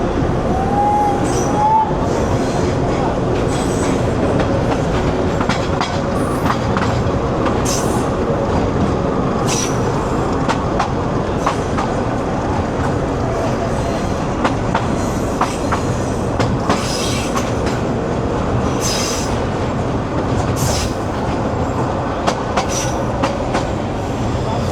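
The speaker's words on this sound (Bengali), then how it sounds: "আসলে 20 টাকা রেল ভ্রমণ করছি" A Bangladeshi local train runs steadily on the rails between Narayanganj and Dhaka, a loud continuous rumble from inside the carriage with rhythmic wheel clatter and occasional metallic squeals, faint voices underneath.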